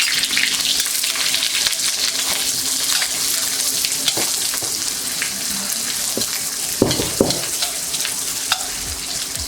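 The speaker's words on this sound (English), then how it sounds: "I'm gonna go ahead and pop in the onions and let it fry" Onions frying in a pan for chicken chow mein, a loud steady sizzle and crackle with a few sharp spatula scrapes and clinks near the end, no talk.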